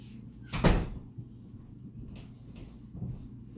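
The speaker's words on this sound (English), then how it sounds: "So wanted to get that door closed." A door at home is pushed shut with one firm thud early on, followed by quiet room tone and a fainter knock near the end.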